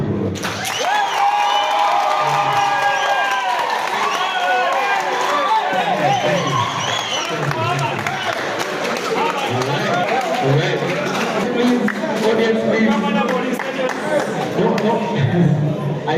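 A student audience cheers and applauds for a candidate at the KMTC Nairobi campus presidential debate, a dense, continuous roar of clapping and voices that stays loud and unbroken throughout.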